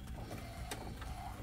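Epson ink tank photo printer printing, a quiet steady mechanical whir with faint rhythmic clicks and swishes of the print head moving back and forth.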